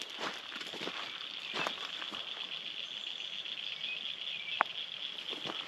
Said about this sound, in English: some cicadas in the background